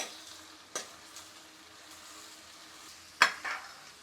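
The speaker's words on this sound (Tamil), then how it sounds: "2 பச்சை மிளகாய், ஒரு கொத்து கருவேப்பிலை நல்லா வதக்கி விட்டுக்கலாம்." Onions with green chillies and curry leaves sautéing in a pan, a soft steady sizzle with two sharp scrapes of a spoon stirring against the metal.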